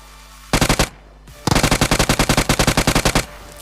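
Automatic gunfire in a battle royale video game: a short loud burst of rapid shots, a brief pause, then a longer sustained burst of evenly spaced rounds, close and dominant with no talk.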